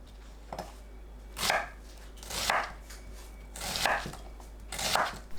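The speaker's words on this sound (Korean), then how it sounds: "양파를 1cm 크기로 썰어주세요." A kitchen knife cuts an onion into 1 cm pieces with slow, deliberate strokes, about one a second, each a short crisp crunch against the board in a quiet room.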